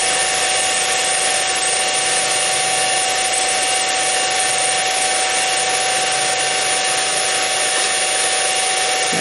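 A stepper motor drives a home-built dynamic balancer with a steady, whining mechanical buzz and a faint ratcheting texture, running continuously at an even level with no voices.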